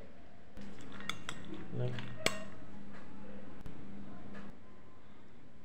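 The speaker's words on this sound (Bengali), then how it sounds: "এখন ভালো করে সবগুলো মাখিয়ে নিতে হবে।" A utensil scrapes and clinks against a bowl as a protein salad is tossed with beet salt, a steady, close rattle of metal on dish with a few sharper knocks.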